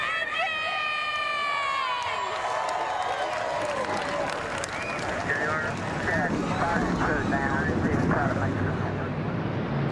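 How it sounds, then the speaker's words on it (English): A field of race car engines roars to life on the short track at Martinsville Speedway in the NASCAR Racing 2003 sim, a loud, continuous wall of sound swelling with crowd noise while an announcer talks over it. "41 cars fire up the starting grid at the Martinsville Speedway"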